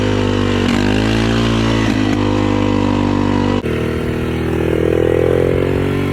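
A built Honda four-wheeler ATV stuck in fourth gear drives slowly, its engine droning loud and close at low revs, with the pitch dipping and swelling as the throttle changes.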